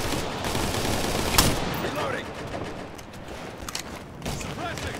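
Sustained suppressing gunfire in the military shooter Operation Flashpoint: Red River, a dense rattle of automatic fire with a sharp louder shot near the start, continuing steadily under shouted voices.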